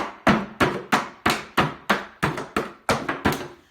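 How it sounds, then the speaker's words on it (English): A Phillips head screwdriver is whacked repeatedly to punch drainage holes, giving about ten sharp, evenly spaced knocks, close and fairly loud, each with a short decay. "I'm using a Phillips head screwdriver, and you're just going to whack away at it"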